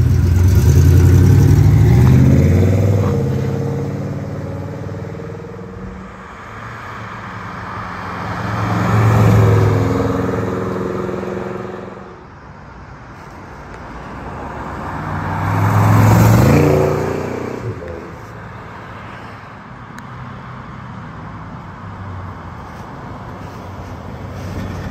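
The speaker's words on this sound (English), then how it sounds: "As you can hear, that 400 V8 sounds tremendous." 1967 Pontiac GTO with a 400 V8 makes repeated road flybys: engine roar swells loud as the car passes near, fades away, then rises again for a second close pass before dropping to a distant hum.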